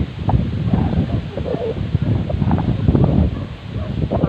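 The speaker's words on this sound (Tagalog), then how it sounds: "Lakas ng hangin sa atin dito," Strong wind roars steadily through a stand of trees beside a pigeon loft, a dense, continuous rush with gusting swells and rustling leaves throughout.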